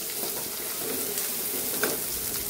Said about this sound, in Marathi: कांदा एकदम छान मऊसूत परतून घेऊया.